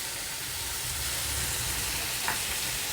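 Onions sauté in a tagine pan while cooking a beef tongue dish, giving a steady, close, continuous sizzle and hiss with no talking.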